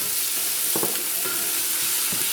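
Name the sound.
chicken being added to a pot and frying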